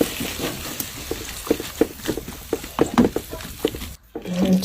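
Water poured into a frying pan of potatoes cooking in sauce, hissing and sizzling with irregular stirring clatters and bubbling patter, close and fairly loud, ending in a brief hush before the sizzle resumes.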